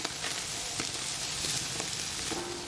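Meat rubbed with tiny onion flowers sizzles as it cooks, a dense, steady crackling hiss with scattered pops, close and loud with no voices.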